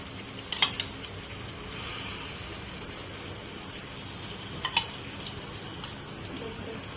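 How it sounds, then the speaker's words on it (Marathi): Prawns go into hot oil with masala for Kokani prawn rice, bringing a soft, even sizzle under a couple of sharp clinks of a spoon against the pot. "मला छान तेल सुटलंय, आता आपण कोळंबी टाकूया."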